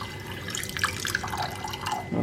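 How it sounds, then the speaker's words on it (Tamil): Water pours in a steady splashing stream into a cooking pot in a home kitchen, close and continuous with bubbly trickling throughout. "இதுல தண்ணி ஊத்திக்கலாம்"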